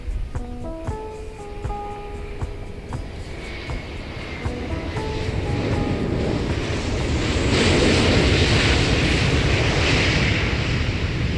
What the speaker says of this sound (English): our pre-recorded jet sound synchronizing almost perfectly with that liftoff of Korean Air Flight 819, an Airbus A330-300 going to Changsha.